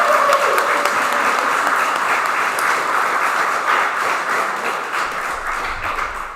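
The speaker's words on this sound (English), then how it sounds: "Round of applause for Kira" Audience applause at a spring league awards event, a sustained wash of clapping from a room of people that tapers slightly toward the end.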